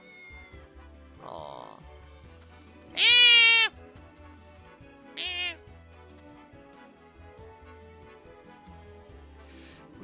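A cat in Triangle Strategy gives several short, clear meows spaced over a quiet, low musical backdrop, the loudest one near the middle, and a voice briefly reacts.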